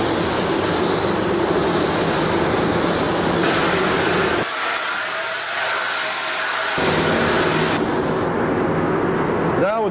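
Loud, steady hiss of a spray gun spraying about 40 pounds of pressure continuously, briefly easing off midway before resuming at full force.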